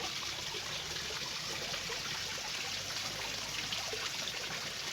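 Water trickles steadily into the bottom drain of a garden koi pond, a continuous close hiss-like babble with no breaks and no voices.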